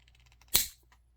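Flame sensor rod cut to length with side cutters or a hacksaw: a single sharp, close snap with a quick decaying ring, alone against near silence.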